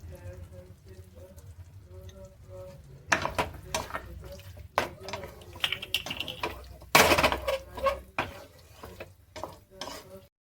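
Cornflour slurry goes into a hot frying pan while cooking Manchurian, bursting into sharp sizzling and clattering stirring against the pan in several loud strokes, with a voice talking at the start.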